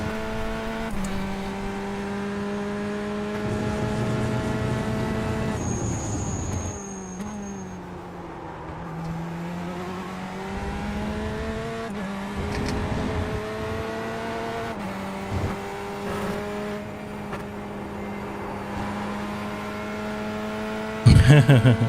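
A Ferrari GTE race car laps Aragon in a racing video game, its engine note holding a steady drone, dipping and rising through gear changes and corners, with a sharp burst at the very end.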